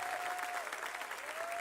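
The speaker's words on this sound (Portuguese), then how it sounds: "Pode aplaudir, é festa." A youth church congregation claps together during a celebratory service, steady crowd applause with a sustained tone ringing over it, fairly loud and continuous.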